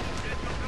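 Gunfire from the video game GoldenEye on its Airfield level, a short burst of rapid, dense shots packed close together at steady loudness for under a second.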